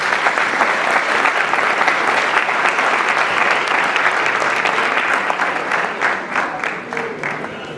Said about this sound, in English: Everybody, please give a round of applause for our candidates.